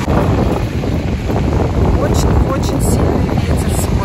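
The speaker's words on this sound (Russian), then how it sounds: "Очень-очень сильный ветер сегодня." Strong wind buffets the microphone at the seashore in Lazarevskoye, a steady loud roar of gusts and rushing air with surf noise underneath, continuous throughout.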